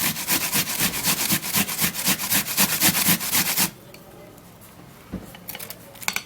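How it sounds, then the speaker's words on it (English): An ingredient rubbed against a hand grater in rapid, regular rasping strokes, close and loud for about three and a half seconds, then stopping, followed by faint clinks and quiet handling. "For me, I would just love to grate it."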